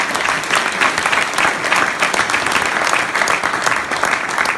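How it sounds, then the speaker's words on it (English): Sustained audience applause at a cryptocurrency summit panel, loud and steady with many hands clapping together throughout, no pauses. "Give them a round of applause."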